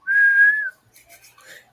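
A voice whistles to imitate the little whistle of a mini nuke fired in a video game: one loud, steady high tone held under a second, then faint breathy sounds trailing off.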